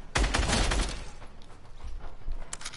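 Video game gunfire, a loud sharp burst of shots up front followed by scattered fainter reports, with little talk over it.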